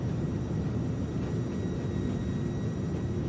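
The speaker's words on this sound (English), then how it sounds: "Let's get rid of reverse thrust. Those sounds." An Airbus A300-600R's reverse thrust in Microsoft Flight Simulator gives a steady, broad, low roar with no clear breaks, held at an even level.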